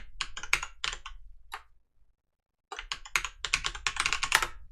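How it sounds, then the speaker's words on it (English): Rapid keystrokes on a computer keyboard while working in a terminal, a quick flurry of clicks, a silent pause of about a second, then another dense run of typing close to the mic. "Once I'm logged in, I'll type SU for super user."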